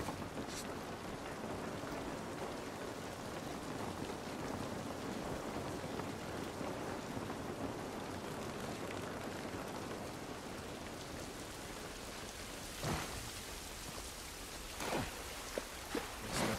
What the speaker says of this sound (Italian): Pioggia non va bene.